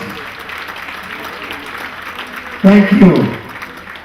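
Applause from the audience at an induction ceremony in Los Angeles, starting as a brief loud burst under a short spoken thanks and then tapering quickly.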